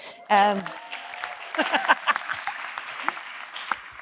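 Audience applause at a television festival masterclass, entering after a brief voice and building into a scattered patter of claps that carries on to the end of the clip.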